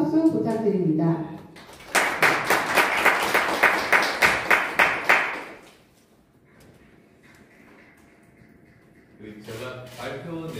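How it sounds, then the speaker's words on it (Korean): An audience applauds at a political campaign policy presentation, a loud burst of many hands clapping for a few seconds that fades out, with someone speaking before and after it. "다시 한번 큰 박수 부탁드립니다."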